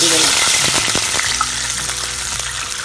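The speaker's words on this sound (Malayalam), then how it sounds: "ഇനി നമുക്ക് ഈ വെള്ളം ഈ ശകലം നെയ്യുണ്ടല്ലോ, നെയ്യുള്ള ഈ പാത്രത്തിലേക്ക് നമുക്ക് ഒഴിച്ചു കൊടുക്കാം" Water poured into hot ghee hits with a loud burst of sizzling and crackling that gradually settles into a steady, softer fry.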